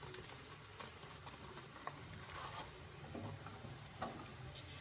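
Spicy scrambled egg masala frying in a pan, a soft steady sizzle with faint scattered ticks and stirring taps throughout, quiet and close with no voices.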